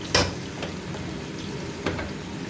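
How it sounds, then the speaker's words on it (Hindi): Onions browning in a pan for white chana pulao give a steady low sizzle, broken by two sharp clinks of a spoon or utensil against the pan. "तो प्याज हमने डाल दिए ब्राउन होने के लिए"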